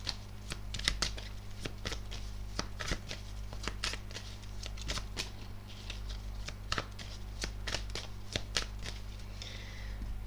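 Tarot cards are shuffled by hand, a quick irregular series of crisp riffling snaps and slides, close and fairly quiet, with no talking.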